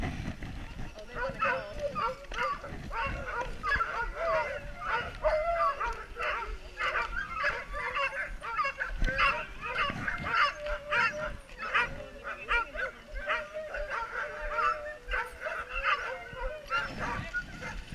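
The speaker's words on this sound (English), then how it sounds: "you can tell the dogs are extremely excited" Excited sled dogs at the start of the Iditarod race bark, yip and whine in a dense, continuous chorus, with honk-like cries mixed in and a voice talking over the noise.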